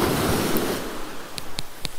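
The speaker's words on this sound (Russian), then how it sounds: "Вот вода пришла." Sea water washes up onto a winter beach at Tekirova near Kemer in Antalya, Turkey, a close, rushing surge that fades after a moment, followed by a few faint clicks.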